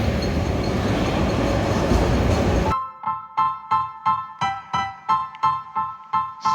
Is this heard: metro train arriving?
yes